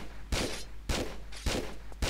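Rifle gunshots in the Tomb Raider video game (Quest of Gold, Martinique level): four sharp reports spaced about half a second apart, each with a short noisy tail, loud and close with no talking.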